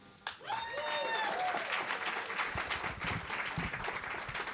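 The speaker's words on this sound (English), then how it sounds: "I guess there already have been, applause for Greg." An audience at a small-business chamber of commerce evening bursts into sustained applause, many hands clapping steadily after a brief moment of a voice.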